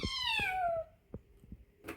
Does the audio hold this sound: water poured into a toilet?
no